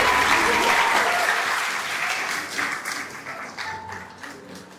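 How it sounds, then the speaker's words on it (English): Audience applause at a secondary school graduation ceremony, a dense steady wash of clapping from a large crowd that slowly thins and fades over a few seconds. "All right, let's keep the applause, people."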